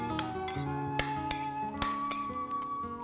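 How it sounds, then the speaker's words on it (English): A spoon stirring acai and yogurt in a bowl, making light clinks and taps against glass, quiet and close, with no talk. "You just stir it up."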